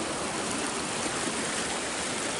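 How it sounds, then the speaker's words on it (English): River Durcal pours strongly past a weir, a steady, dense rush of flowing water with no pauses, heard close and even throughout. "that's a fair old flow that's coming through there as well"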